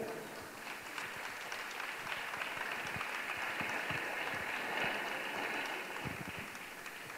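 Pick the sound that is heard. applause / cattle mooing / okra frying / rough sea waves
applause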